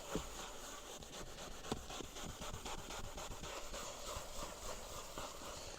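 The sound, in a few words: brush applying wood conditioner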